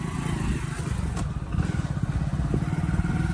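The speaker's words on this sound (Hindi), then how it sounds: "बाइक चला रहे हैं और मैं पीछे बैठा हूँ" Motorcycle ridden with a passenger on the back, its engine droning loud and steady from close up, with a slight rise in intensity partway through.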